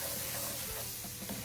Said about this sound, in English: I'm gonna go ahead and add our flour to our vegetables, and we're gonna stir it, and we're gonna let it cook for a minute or 2